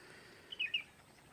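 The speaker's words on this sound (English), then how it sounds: "lot of music in the form of birds" Birds at Khijadia Bird Sanctuary in the Gulf of Kutch, two or three quick, faint chirps close together in a quiet outdoor setting.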